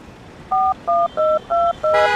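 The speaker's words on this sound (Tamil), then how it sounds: "ஆம்புலன்ஸ்க்கு ஃபோன் பண்ணுவோம்." Telephone keypad tones dialing a number to call an ambulance: five distinct dual-tone beeps in a steady rhythm, clear and fairly loud, ending as a brighter ringing tone begins.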